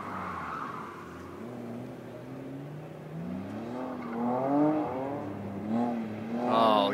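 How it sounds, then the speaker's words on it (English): A car doing wheelies and donuts, its engine revving and rising and falling in pitch over about seven seconds, with tire squeal building and growing louder toward the end, heard from a distance. "Those wheelies, those donuts he's turning. He's wasting that rubber."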